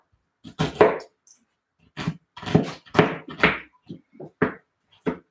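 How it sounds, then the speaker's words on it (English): A knife dices a white onion on a cutting board in a home kitchen, giving short clusters of sharp chopping knocks with brief pauses between bursts, close and fairly loud with no talking. "Next piece of onion, the white one, being diced."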